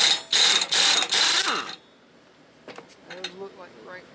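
An impact gun hammers loose the top pulley on a John Deere LA110 42-inch mower deck in three loud rattling bursts, followed by quieter metallic clinks and handling noises.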